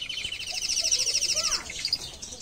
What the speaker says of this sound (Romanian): Uite ce frumos cântă canarii.